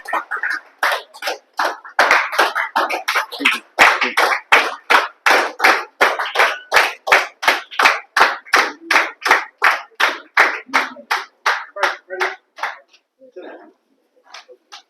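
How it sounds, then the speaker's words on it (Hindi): A crowd claps steadily for about thirteen seconds, a dense rhythmic run of hand claps that stays fairly loud, then fades away near the end. "एक बार सर का स्वागत करिए तालियों के साथ में आप लोग।"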